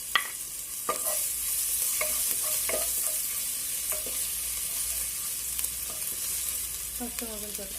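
Ginger garlic paste sizzles steadily in hot oil for a cheeseball noodle snack, with a spoon stirring and scraping the pan several times near and loud; a brief voice speaks faintly under the frying.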